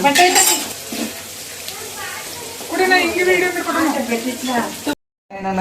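Fried rice sizzles in a pan with soy sauce added, a steady frying hiss broken by clinks of utensils against the pan, loud and close, with people talking over it; the sound cuts out briefly near the end.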